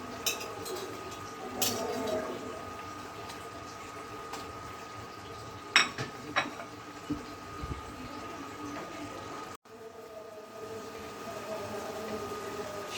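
Eggplant pieces go into a pan of spice mix that has already been fried down, giving soft sizzling and bubbling with a few sharp clinks of a spoon against the pan, moderately close.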